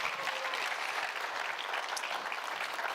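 Steady applause from an audience at an educational leadership summit, many hands clapping in a dense, even wash for about three seconds with no break, moderately loud in a hall.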